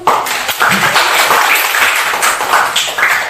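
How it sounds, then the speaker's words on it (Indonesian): Classroom applause after a student group presentation, a loud, dense burst of many hands clapping close by that continues steadily throughout. "Oke, tepuk tangan dulu."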